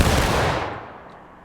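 A company of soldiers fires a massed musket volley in the Civil War game War of Rights, one loud broad blast at the start that rumbles and fades away over a second and a half.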